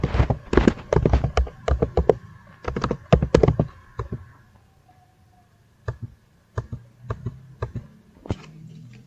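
Keys tapped on a computer keyboard while entering a router CLI command, dense bursts of clicky strokes for the first few seconds, then sparser isolated taps after a brief pause, close and clear with no talking.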